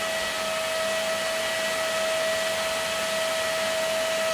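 A thicker, larger 5000 RPM cooling fan runs steadily at high speed, giving a loud, constant broadband whoosh with a sharp tonal whine, close and uninterrupted with no talking.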